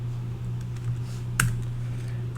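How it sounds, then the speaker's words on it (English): Keystrokes on a computer keyboard as a make-directory command is typed at a command line, soft quick taps over a steady low hum with one sharper key press. "I'm typing the command make directory"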